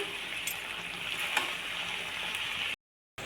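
Spinach sautéed in oil in a pan gives a steady, close hiss of sizzling with faint clinks of stirring throughout, before a brief drop to silence near the end.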